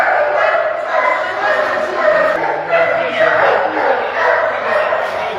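Many dogs bark and yip together at a shelter in Gori, a dense overlapping chorus of barks and whines at moderate distance, with voices mixed in.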